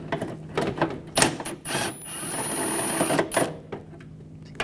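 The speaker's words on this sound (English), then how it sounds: "Using my 10mm socket." A 10mm socket wrench backs nuts off beside the inner fender well of a 2004-2009 Audi A4 during a timing belt and water pump job, giving repeated close metallic ratcheting bursts with a steady whir in between.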